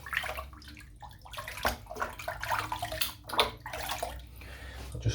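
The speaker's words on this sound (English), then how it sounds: "I'm just going to rinse the soap out." Water runs and splashes as soap is rinsed out of a shaving brush under a tap, a continuous soft gurgling stream with irregular sloshing, fairly quiet and close.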